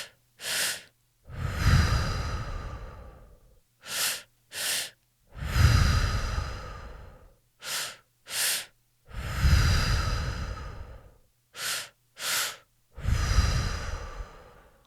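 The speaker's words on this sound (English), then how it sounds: "Two short inhales, one long exhale." A breathing exercise, two short sharp inhales followed by one long drawn-out exhale, repeated four times in a steady cycle, close and clear with no talk.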